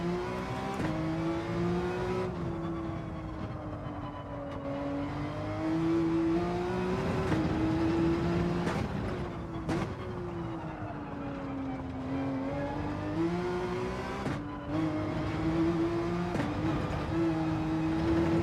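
Porsche race car engine in Gran Turismo 7, a steady droning whine that rises and falls in pitch through gear changes and braking, loud and continuous with no talk over it.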